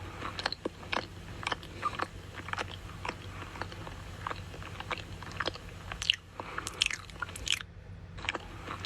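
Wet lip-smacking and chewing noises from someone eating repeat in quick, irregular bursts, close and fairly crisp, with no speech over them.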